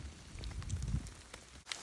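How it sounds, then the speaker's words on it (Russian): Steady heavy rain patters and hisses on a tent and nearby surfaces, with scattered louder drips and a low rumbling wash underneath. "Дождь все сильнее."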